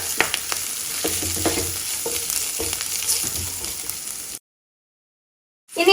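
Spice masala sautéing and being stirred in a pan for chicken 65, a steady close sizzle with scraping strokes, cutting to silence near the end before a brief return of sound.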